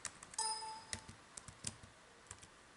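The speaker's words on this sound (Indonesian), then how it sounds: "Ini kita ketik, bos." Light, scattered taps on a computer keyboard sound faint and close, irregular clicks spread across a couple of seconds, with a short ringing chime near the start.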